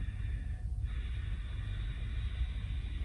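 A steady, forceful breath sound made to imitate Darth Vader, Ujjayi ocean breath with a hoarse, constricted rasp, continuous and close for about three seconds with no talking.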